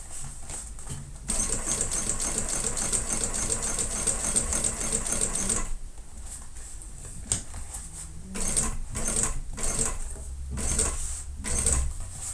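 A sewing machine runs in long steady bursts, top stitching about an eighth of an inch from the edge of a handbag at stitch length 4, with short stops and restarts while pivoting around corners and a voice speaking now and then.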